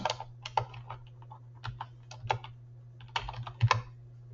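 Typing on a computer keyboard in quick irregular bursts of clicks and key taps with brief pauses between, close and fairly quiet over a low steady hum.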